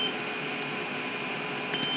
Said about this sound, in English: There's the low voltage alarm going off now.